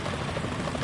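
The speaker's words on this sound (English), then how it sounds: "Is that a chopper I just heard?" Helicopter rotor drone in Metal Gear Solid 2, a faint steady whirring heard alone for under a second.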